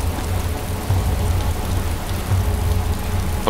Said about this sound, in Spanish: ¿Por qué hay lluvia atravesando el techo?